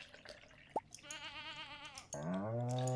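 Goats bleating in the Stardew Valley farming game: a short high call, then a long wavering bleat, then a louder, lower bleat that runs to the end, with soft game ambience between, close and clear.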